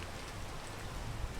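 Steady rain from the climbing game PEAK, a dense, even wash of patter with a low rumble underneath, continuous and moderately loud with no voices.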